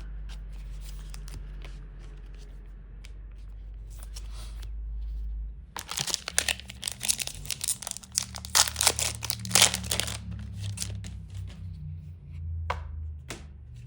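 Scissors cut through a foil trading card pack from the League of Legends Riftbound TCG, a dense run of close crinkling, snipping and crunching lasting several seconds, then quieter rustles of handling.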